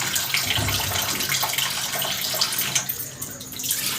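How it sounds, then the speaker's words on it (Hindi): Water is poured into a pan of caramelizing sugar on a home stove, giving a loud, close hissing gush and sizzle that runs steadily for several seconds before easing slightly. "जल्दी करें पानी दें, नहीं तो चीनी जल जाएगी।"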